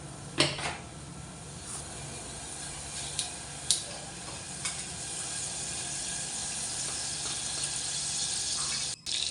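Cumin seeds dropped into a little hot oil in a pan for a bitter gourd vegetable dish, giving a steady broadband sizzle with a few sharp clinks of a utensil against the pan, no one talking.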